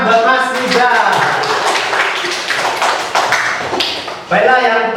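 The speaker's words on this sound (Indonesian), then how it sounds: "Tepuk tangan buat Mas Nizar." Brief classroom applause from students, a burst of hand claps close by with voices talking over and around it throughout.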